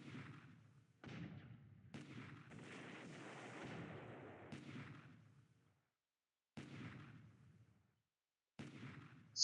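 In a strategy game, light cruisers' naval guns shell coastal defenses in a series of faint, distant booming blasts, each rumbling out into a fading tail, separated by short silences.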